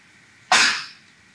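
A single sharp sneeze bursts out from a nearby person in a quiet room and fades within about half a second.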